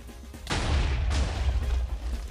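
Explosive blasts in a TNT Wars video game: after a brief quiet start, a heavy boom hits and a second burst follows, leaving a rumbling, crackling roll of detonations that persists at high volume.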